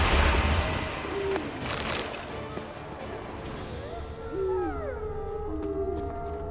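Hound howling in The Witcher 3: Wild Hunt, a long wavering canine howl with several rising and falling pitched wails layered over rumbling game ambience, close and fairly loud.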